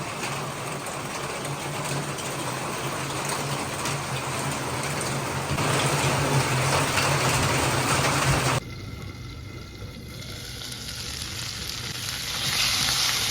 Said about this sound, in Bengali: মাছগুলো এক পিঠ ভালো করে ভাজা হয়ে গেলে আমি উল্টে অপর পিঠ ভালো করে ভেজে মাছগুলো তুলে নেব